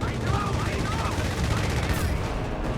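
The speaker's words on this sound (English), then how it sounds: "Strafing run inbound." Aircraft strafing-run gunfire in the World War II strategy game Company of Heroes 3, steady rapid machine-gun fire rattling continuously under battle noise, moderately loud.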